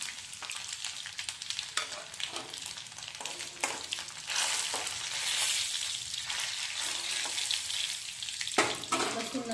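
Mustard seeds, cumin, curry leaves and garlic frying in hot oil give a steady crackling sizzle with bright popping bursts and a few scraping stirs, fairly close and continuous, with no voices.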